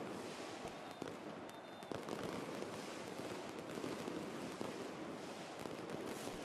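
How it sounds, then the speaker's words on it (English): Fireworks set off by the crowd in a Football Manager 2024 match crackle in rapid, overlapping pops and bangs, steady and loud against the constant noise of the stadium. "Seems a strange time for a firework display."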